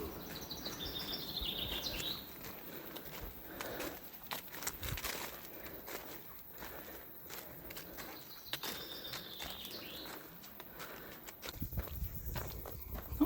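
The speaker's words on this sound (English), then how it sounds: "A lot of bird song." Birds sing and chirp intermittently along a hiking trail near Ohope and Whakatane, New Zealand, the calls faint to moderate over steady footsteps on the path.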